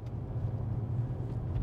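The electric motor of a power lumbar seat in a 2023 Dodge Hornet GT gives a brief, steady low whirring hum inside the car cabin, faint and continuous, with no talking.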